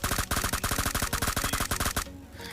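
Rapid automatic gunfire spray in the battle royale game PUBG Mobile, a loud, close, continuous burst of evenly spaced shots that cuts off near the end.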